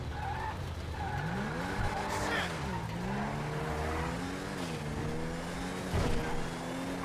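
A Lamborghini Urus driven in GTA 5 revs and accelerates hard, engine pitch rising and falling through gear changes, with tire squeal near the end, all fairly close and steady.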